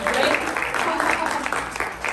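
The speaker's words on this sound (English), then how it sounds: "Clap extra hard for that kid" Library audience clapping for a child's poetry performance at a children's reading event, a brief burst of dense clapping mixed with some voices.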